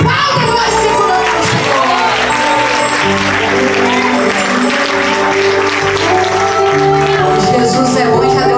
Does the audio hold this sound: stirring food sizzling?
no